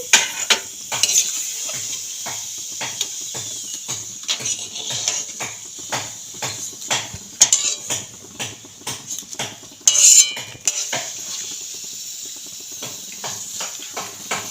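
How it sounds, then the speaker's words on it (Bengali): Small cut pieces of papad frying in hot oil, a bright crackling sizzle over busy, rapid clinks and scrapes of a metal spoon against the pan. "ছোট ছোট করে যে পাপড় কেটেছি পাপড়গুলিকেও ভেজে নিচ্ছি"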